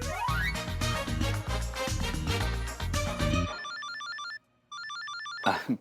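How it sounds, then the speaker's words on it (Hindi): A phone rings with a bright electronic ringtone, a repeating high chiming pattern in two short bursts with a brief gap, following a dense stretch of dramatic music. "फोन।"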